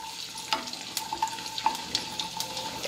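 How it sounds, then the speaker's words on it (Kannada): Cumin, mustard, fenugreek, fennel and asafoetida frying in a little oil give a faint, steady sizzle broken by small pops and crackles. "ಈಗ ಒಂದು ಸ್ವಲ್ಪ ಎಣ್ಣೆಗೆ ಫ್ರೈ ಮಾಡ್ಕೋಬೇಕು"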